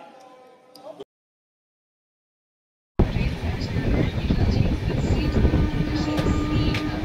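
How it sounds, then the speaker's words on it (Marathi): Train travelling through India, a loud steady rumble and rattle of the carriage in motion that begins after a brief silence, preceded by a short stretch of quieter sound. "आपण प्रवास करतोय ट्रेनने."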